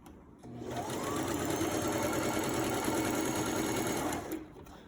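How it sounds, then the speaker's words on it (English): A sewing machine stitches a sleeve seam in one continuous run of about four seconds, a close, even, rapid whirring hum that starts and stops cleanly. "we need to sew 2 rows of stitches, one with 1/4 inch seam allowance"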